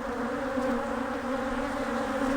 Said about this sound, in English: you can see all the bees kicked up there off the entrance